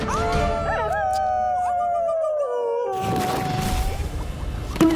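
A cartoon direwolf, red and black, gives a long, wavering, echoing howl that slides down in pitch, followed by a rougher burst of noise at the end; no speech.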